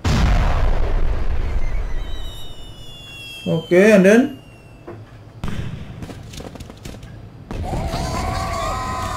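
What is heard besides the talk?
firecracker explosions in video game Super Mario Odyssey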